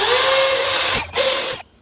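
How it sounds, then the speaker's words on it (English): A power drill whines steadily while drilling holes for a classic car headlight relay upgrade, stops briefly, then runs again for a shorter burst before cutting off; close and loud with no talking. "I'm just going to drill on my holes"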